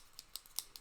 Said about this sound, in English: She took her aim and snip! Cut through the little gnome's beard.